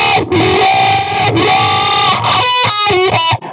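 An electric guitar with a wah pedal and distortion plays a sustained, sweeping distorted line, then a run of choppy staccato chords near the end, loud and alone with no voice.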